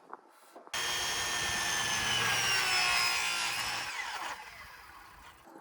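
Hand saw cutting wood for a deck build, a loud continuous rasping stroke sound starting abruptly and running several seconds before easing off, close up with no talk.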